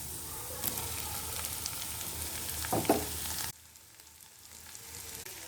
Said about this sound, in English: Now add the chopped long yard beans and potatoes to it